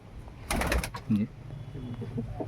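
Pigeons coo softly in a loft, low and brief beneath someone talking nearby.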